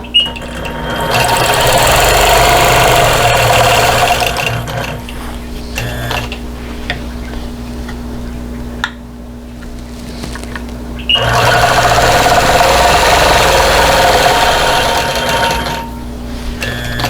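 A quilting machine stitches in the ditch on a tessellating star quilt, whirring steadily in two long, loud runs separated by a quieter pause with a soft mechanical hum.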